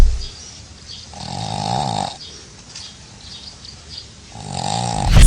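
A dog snores loudly and close up, with two long rasping breaths in a slow, regular rhythm and quieter pauses between them.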